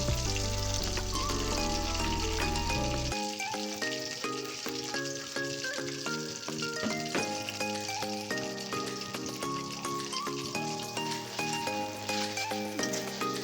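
Onion, garlic and ginger paste sizzle in a hot pan for a papaya and small boal fish curry, a steady crackling fry heard beneath prominent background music.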